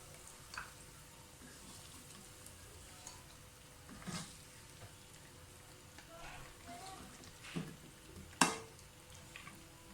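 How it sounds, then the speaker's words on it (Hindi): Soft, steady sizzling of kebabs frying in oil, fairly quiet, with occasional clinks and scrapes of a utensil in the pan. "कबाब फ्राई हो जाए तो निकाल लें"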